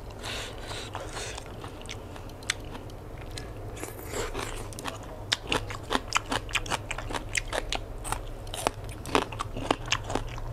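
Crunchy lotus stolons chewed in a Thai fresh prawn salad, with close, loud bites and crisp crunches repeating irregularly and growing denser toward the end, with no talking.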